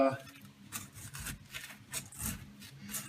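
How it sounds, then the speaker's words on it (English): A small plastic scraper rasps and rubs against glued carpeting being pulled out of a Porsche 911 interior, coming in short repeated scraping strokes close by. "I have this little plastic scraper that I like using"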